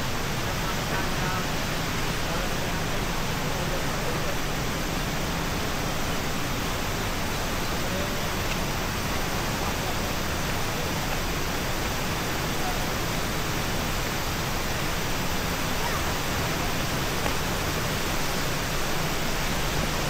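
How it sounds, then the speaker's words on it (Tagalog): Ubot Falls, a waterfall in the Sierra Madre at the Villa Aurora eco-tourism area, sends up a dense, constant roar of falling water that stays loud and even from start to finish. "Yan na yung Ubot Falls eh."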